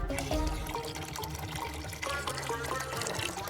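Water pouring and splashing into a container for washing socks, a steady gurgling stream with a brief surge partway through, close and moderately loud.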